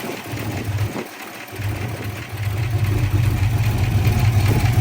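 A carbureted Ford 302 V8, pulled from a 1990s Mercury or Ford Explorer, idles under the hood of a 2000 Ford Mustang, a steady close rumble with a brief dip before settling into an even, slightly louder run.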